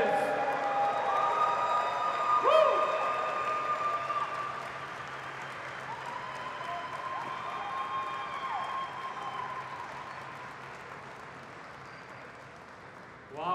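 Audience applause greets the reveal of a Lucid Air Dream Edition Stellar White Performance car at a factory event, moderate and steady clapping with voices and a loudspeaker talking over it, fading slightly toward the end.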